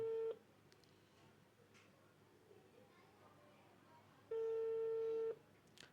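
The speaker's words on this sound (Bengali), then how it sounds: "আমি এখন তাকে ফোন করছি লাউডে দিছি" A mobile phone call placed on loudspeaker gives two clear ringback tones, a short one at the start and a longer one near the end, separated by quiet room hiss.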